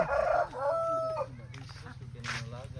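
A rooster crows loudly nearby, its drawn-out call rising and falling, with a steady low background hum and some faint chatter afterward.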